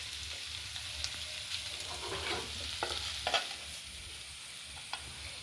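Fish roast, koozhuva fish, frying and being stirred in a pan, with a steady soft sizzle and occasional scraping clicks of a spoon, close and alone with no talk.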